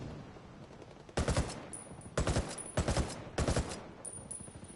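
Video game gunfire in four loud, separate automatic bursts, each lasting roughly half a second and spaced about a second apart, against quieter background noise with no talk.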